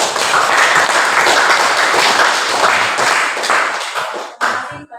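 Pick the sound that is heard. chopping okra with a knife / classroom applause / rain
classroom applause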